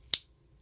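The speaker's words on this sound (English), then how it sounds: "that's the sound of my Rapid River knife locking back open" A single sharp metallic click of a Rapid River folding knife blade locking open, very brief and close, then quiet.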